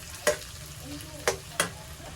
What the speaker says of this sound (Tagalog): So, stir-fry lang natin. Haluin lang natin.